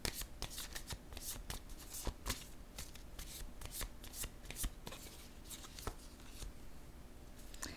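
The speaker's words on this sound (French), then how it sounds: "Je vais déposer une autre carte." Playing cards are riffled and laid down close by in quick crisp bursts of flicks and snaps, steady throughout with no talking.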